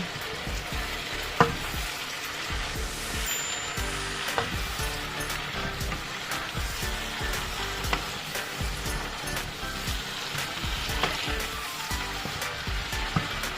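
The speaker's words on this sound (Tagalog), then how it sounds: "Lagay ko na itong ating gulay. Haluin natin." Vegetables stirred and fried in a pan (kawali), a steady crackling sizzle with scraping stir strokes and occasional clinks, close and continuous with no talking.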